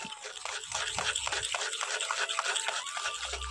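Milk chocolate mixture stirred in a pan, a soft, steady scraping and sloshing with a regular rhythm of spoon strokes, quiet and close, without speech.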